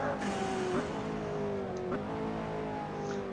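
A McLaren P1 drives around Silverstone in the Assetto Corsa racing sim. The engine hums steadily at high revs, its pitch slowly falling and then catching again at gear changes, with no voices.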